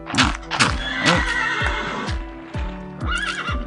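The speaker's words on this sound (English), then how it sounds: "Horses are going crazy." Horses in Minecraft, a video game, neigh and whinny again and again in loud, close calls, with clip-clop hoofbeats sounding between them and no talking.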